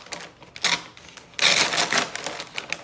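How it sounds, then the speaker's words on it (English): A Hot Wheels toy car package being ripped open, with sharp crackling tears of plastic and cardboard in two bursts separated by a brief pause. "Now, all we have to do is rip open the package."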